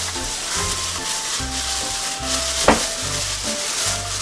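A sauce of honey, soy sauce, sesame oil, sesame seeds and garlic is stirred for bibimbap, giving a steady close scraping and rubbing with one sharper knock partway through and faint tonal sounds in the background.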